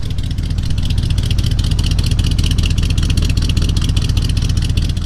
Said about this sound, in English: I just like to hear it rumble